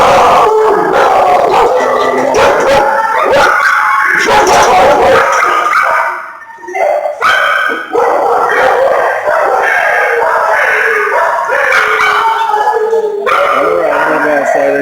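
A puppy barks, yips, whimpers and howls up close in loud bursts, with a short quiet gap midway and a human voice audible at times.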